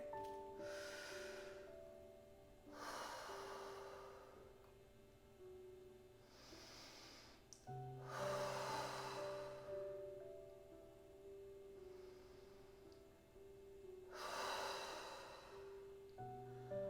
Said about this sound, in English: I just want us to take a few deep breaths here